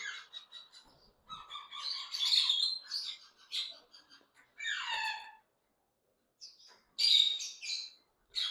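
A pair of red pied doves gives a series of chirping, warbling calls in short bursts separated by brief silences, close and fairly clear with no talking.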